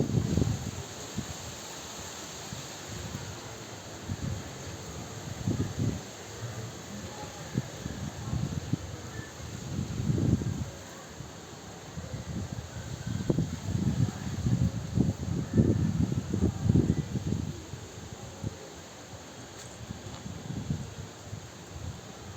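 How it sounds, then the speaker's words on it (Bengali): Strong storm wind at night gusts and buffets the microphone in uneven surges, swelling and fading in rough rushes, with no voices. "ঝড় উঠেছে, তো এখন আমি দেখাতে চাইছি যে কিরকম ঝড়টা উঠলো"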